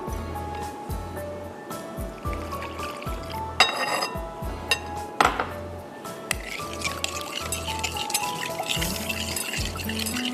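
Half a cup of milk pours into a chili sauce mixture in a home kitchen, a steady liquid stream filling the bowl over a low background hum, with brief clatters partway through.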